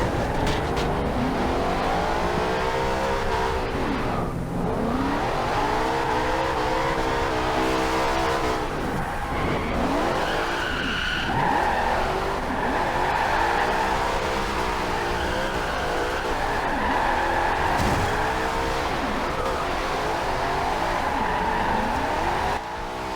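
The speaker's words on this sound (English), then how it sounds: "Just flip around a bunch on the throttle because it's fun, and I like tire smoke." A 1975 Ford Bronco Ranger roars loudly and continuously as it revs hard and spins around on the throttle, with engine pitch rising and falling through repeated bursts and tires squealing intermittently.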